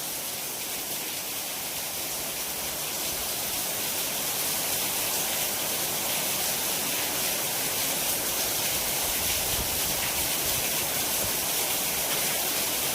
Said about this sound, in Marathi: कसं चाललाय पाऊस